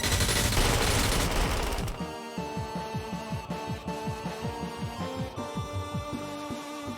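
AA turret in the video game Kaiju Wars firing a steady rapid burst of repeated shots, loud and close, following a brief noisy swell at the start.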